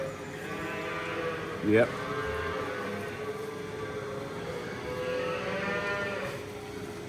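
A cow lowing as her hoof is squeezed during a lameness check, one loud drawn-out moo nearby and a second quieter low later, with a person briefly speaking.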